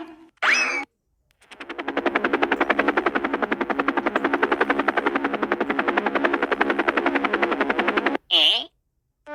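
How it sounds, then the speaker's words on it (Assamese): A cartoon helicopter lands to park in an open spot, its rotor thudding in a fast, steady, loud chop for several seconds, with a short burst of talk just before and just after. "যাওঁ হেলিকপ্টাৰখন অকমান মুকলি জেগাত পাৰ্কিং কৰি দিওঁগে"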